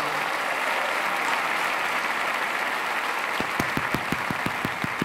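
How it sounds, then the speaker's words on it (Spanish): A concert crowd at a Lakewood festival in Houston applauds in welcome, a steady broad wash of clapping with a run of sharp rhythmic claps rising near the end, no talking. "mi esposa, mi hija Juanita, mi hijo Simón, quien les pido un aplauso de bienvenida para ellos."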